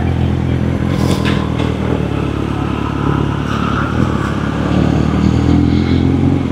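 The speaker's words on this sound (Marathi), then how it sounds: "फर्स्ट टाइम मी रेव केली गाडी" A motorcycle engine revs loudly and close by, a dense, steady roar that holds for the full stretch with small rises and a brief clatter early on, and no voices over it.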